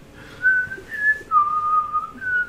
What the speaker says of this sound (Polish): Ona stała, wiesz, zaczęła sobie gwizdać.